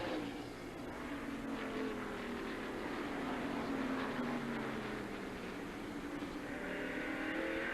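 NASCAR stock cars racing in the 1990 Hanes Activewear 500, engines roaring and sweeping past with rising and falling pitch, a continuous pack of cars at a distance.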